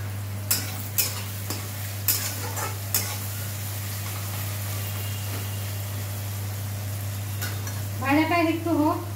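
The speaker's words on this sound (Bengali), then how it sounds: "ভাজাটা একটু হোক, লাল লাল করে একটু বাদামি বাদামি রং আসবে পেঁয়াজটা" Onions fry in a pan for a home-cooked dish, with a steady sizzle under a constant low electrical hum, broken by repeated scraping clinks of a spatula stirring. Near the end a short burst of louder bubbling sizzle rises.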